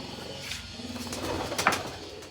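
Pigeons coo softly in a low, steady murmur, close by and alone, with a brief louder note near the end.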